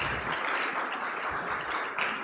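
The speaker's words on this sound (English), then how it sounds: "so I'd just like to have everyone give a round of applause for" An audience at a high school ethics bowl training session applauding the coaches, a continuous even round of clapping from a gathered crowd.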